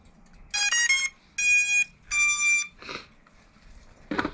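A newly set-up drone powers on with three loud electronic startup tones in quick succession, close by, followed by a couple of soft handling noises.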